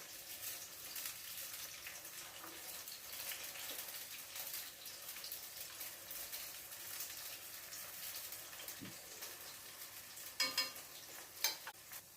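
Prawn vada frying in a pan of hot oil, a soft continuous sizzle with faint bubbling and occasional sharper clinks and stirring noises near the end, heard fairly quietly and without talk.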